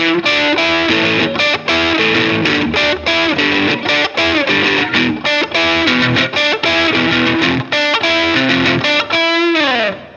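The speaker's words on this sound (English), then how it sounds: "I also have a Boss DS1, which I kick on" A loud electric guitar through a Boss DS-1 distortion pedal plays rhythmic chords and riffs with a gritty, saturated tone and short pauses between phrases.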